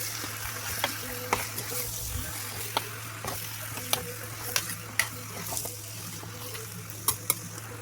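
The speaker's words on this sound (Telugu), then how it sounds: "ఇలా ముక్కలన్నీ వేసుకొని బాగా కలబెట్టుకోవాలి." Chicken pieces tossed into masala in a hot pan give a steady low sizzle under sharp, irregular scrapes and clacks from stirring, with no talking.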